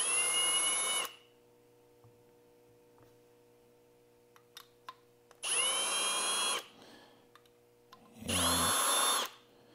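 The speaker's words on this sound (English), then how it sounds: "we'll go ahead and uniform the primer pockets on the rest of this brass" A powered cutter uniforms the primer pockets on rifle brass during precision reloading, giving three short drill-like whirring bursts, each about a second long, separated by quiet gaps with a few faint clicks as the cases are handled.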